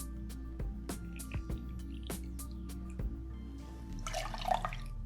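Pineapple juice for a Jungle Bird cocktail is measured and poured with quiet drips and splashes, ending in a short burst of liquid filling a glass, faint and close with no voices.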